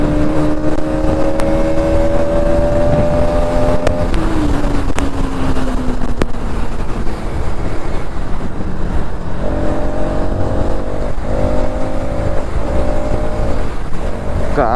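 A Bajaj Pulsar NS200 motorcycle engine runs loudly and close, a steady idle with gliding rises and falls in pitch as the throttle is blipped, under a constant roar of wind or road noise.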